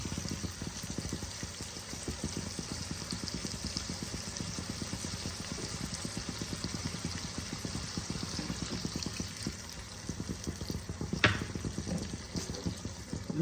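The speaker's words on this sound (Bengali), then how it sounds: "এই পর্যায়ে আমি পরিমাণ মতন জল ইউজ করলাম।" Water goes into an egg masala curry in a pan, giving a steady close bubbling, pattering liquid sound throughout with one brief brighter splash or clink near the end.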